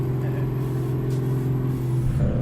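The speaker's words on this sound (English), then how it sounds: "it sounds like you've got high lift cam in the truck, mate" A heavy truck engine with an idle lope sound mod in Euro Truck Simulator, set up to sound like a Cummins with a high-lift cam, rumbles at a steady, loud, lumpy idle throughout with no talk.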